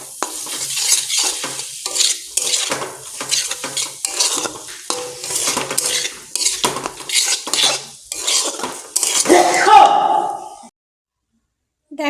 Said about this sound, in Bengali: সমস্ত সবজি মিশিয়ে নেড়ে নামিয়ে নিলাম।